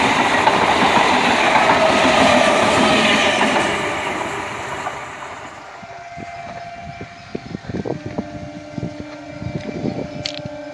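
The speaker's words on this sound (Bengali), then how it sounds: "ডাউন ট্রেনও আসছে দেখছি" A passenger train rumbles past on tracks between Naihati and Ranaghat, loud and close at first, then fading into scattered rhythmic clicks and clanks of wheels over rail joints.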